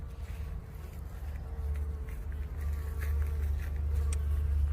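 Honey bees buzz steadily around a hive near a fountain, a dense close drone that slowly swells in loudness, with a few louder individual bees passing by and no talk.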